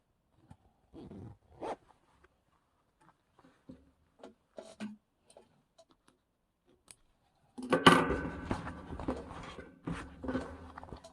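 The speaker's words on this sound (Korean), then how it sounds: "이제 지퍼를 닫아 볼게요" A hidden zipper is drawn closed on a sewn dress, a short quiet rasping run following scattered small handling taps and rustles.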